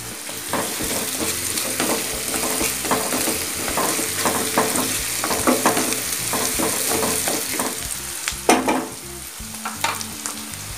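Dried red chillies and curry leaves crackle and sizzle in hot oil for a brinjal gravy, with steady frying hiss and the scrape and clink of stirring throughout, close and fairly loud.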